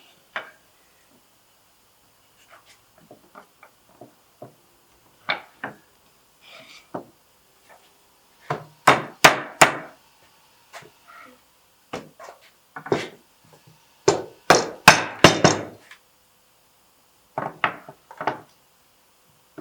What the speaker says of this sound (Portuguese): Estou usando um martelo de borracha, que é para não machucar a madeira.